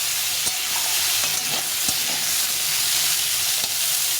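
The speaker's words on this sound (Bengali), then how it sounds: "দিয়ে আলু আর কাঁচা কলাটা বেশ ভালো করে ভেজে নিতে হবে।" Potatoes and raw banana pieces frying and being stirred in a pan for a fish curry, a steady close sizzle with a few scraping stir clicks throughout, no voices.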